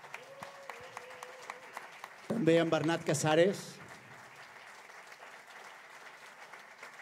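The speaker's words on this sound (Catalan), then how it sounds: "si us plau, un aplaudiment" A burst of audience applause erupts briefly in the middle, loud clapping for a few seconds that then fades, with a presenter speaking before and after it.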